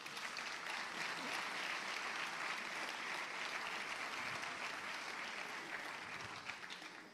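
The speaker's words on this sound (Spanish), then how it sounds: "Por favor, un aplauso." A theatre audience at a sports awards gala applauds, the dense clapping steady and full from start to finish with no voices over it.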